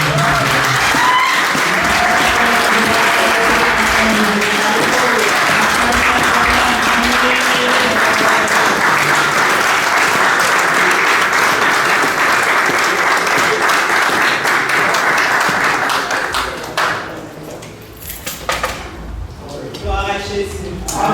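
A church congregation at a Sunday service bursts into loud, sustained applause and cheering, a dense wash of clapping that fades out toward the end as scattered voices come through.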